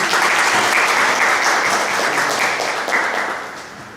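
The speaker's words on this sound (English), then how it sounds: "Big round of applause, friends." Audience at a cancer awareness and free check-up camp applauding a speaker's introduction, a dense round of hand clapping that holds steady and then tapers off near the end, no speech over it.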